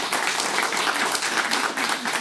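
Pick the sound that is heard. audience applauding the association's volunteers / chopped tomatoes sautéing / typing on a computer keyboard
audience applauding the association's volunteers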